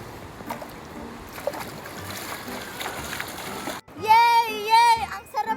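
Splashing in river water while bathing, with bursts of nearby sloshing and kicking water, loud and close, mixed with children's excited voices and shouts in the second half.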